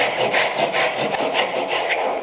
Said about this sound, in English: if you're doing this freehand with the saw